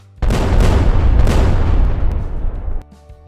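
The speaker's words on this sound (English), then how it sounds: "a healthy dose of these explosion sound effects" A deep explosion bursts out abruptly, a single sustained rumbling boom that rolls on for over two seconds before cutting off into near silence, loud and close.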